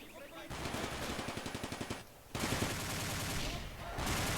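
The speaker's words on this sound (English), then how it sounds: "And the MG is firing." Machine gun firing in the WWII strategy game Combat Mission: a rapid rattling burst of shots, then heavier continuous gunfire and rumbling battle noise, loud and close with no talk over it.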